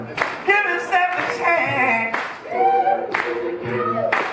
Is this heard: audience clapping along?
yes